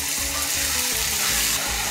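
Prawn shells tipped into a pan of sizzling eggplant curry, giving a steady, close, loud frying hiss with low clattering pulses beneath and no one speaking.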